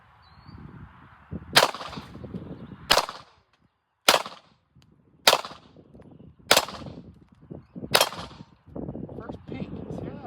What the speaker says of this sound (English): So, all right, so I'm gonna take some shots here.